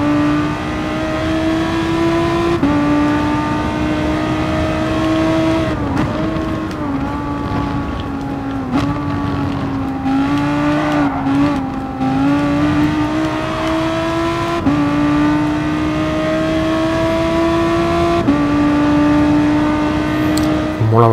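An Audi R8 engine in the racing video game Gran Turismo Sport accelerates hard, its loud, steady drone climbing in pitch and dropping back at each gear change in repeated stepped shifts.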